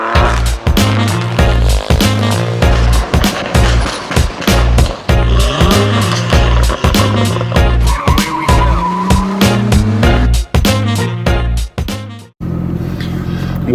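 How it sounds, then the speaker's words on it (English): A Lotus Evora S on a test drive gives a loud, close engine roar with rising and falling revs and repeated gear changes, then a sudden cut to a quieter cabin drone. "We're gonna go test drive a Lotus Evora S"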